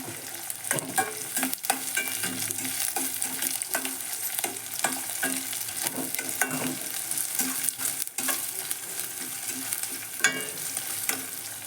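Onions frying in a pan for okra fry, stirred with a spoon that scrapes and taps the pan while steady oil sizzle runs underneath, close and moderately quiet, with no talking.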